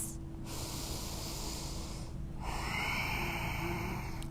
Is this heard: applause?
no